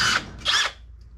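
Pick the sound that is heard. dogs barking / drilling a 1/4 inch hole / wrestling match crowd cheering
drilling a 1/4 inch hole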